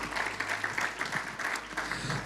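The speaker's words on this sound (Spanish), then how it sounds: "Si yo fuera usted, le diera un aplauso." A church congregation at a Spanish-language discipleship service breaks into steady applause, a dense wash of clapping from many hands lasting a couple of seconds with no speech over it.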